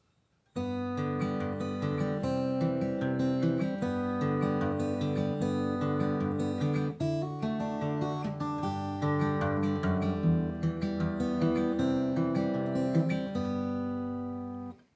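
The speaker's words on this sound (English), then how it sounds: "It's just a beautiful sort of rolling rhythm way to play the guitar." Fingerstyle acoustic guitar in a rolling Travis-picked pattern, a steady alternating bass under plucked melody notes, played solo and close.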